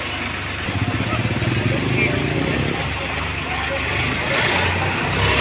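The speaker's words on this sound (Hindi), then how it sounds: "अब यहीं चलाते हैं ये ट्रैक्टर को" A Sonalika 35 DI tractor's diesel engine idles nearby with a steady low chugging rumble, while someone talks over it.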